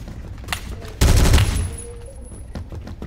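Colt LMG automatic fire in the Roblox game Phantom Forces, one loud half-second burst amid scattered distant gunshots and game effects, with faint voices in the background.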